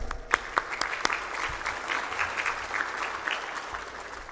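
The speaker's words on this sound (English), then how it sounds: "Let's give us a round of applause," An audience at an international seminar breaks into applause, with a few sharp early claps swelling into steady clapping across the hall for several seconds.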